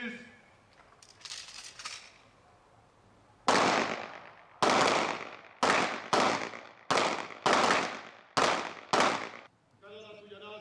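Gunshots at a newly opened Hungarian shooting range and tactical house, about eight loud sharp reports fired in a rough sequence after a command, each with a ringing echo decay, with faint talk beforehand.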